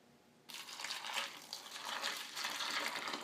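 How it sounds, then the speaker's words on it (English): Milk pours steadily from a carton into a bowl of cereal, a continuous splashing gush that starts abruptly and keeps flowing, fairly quiet with no talking. "then you start to pour your milk."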